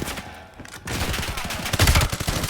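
Rapid gunfire in Call of Duty: Black Ops 7 fills a dense burst of game combat, loud and continuous with overlapping shots and impacts, no voices over it.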